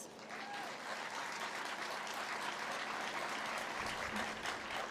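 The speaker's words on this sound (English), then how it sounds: "Please give them an applause." Applause from the crowd at a college commencement ceremony, a steady wash of many hands clapping that holds evenly for five seconds, distant and soft, with a little crowd murmur underneath.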